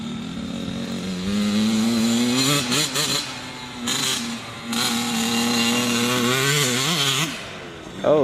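Dirt bike engine revving nearby: a loud, buzzy two-wheeler whine that climbs in pitch, blips up and down several times with short throttle drops, then settles into a sustained high rev before easing off near the end.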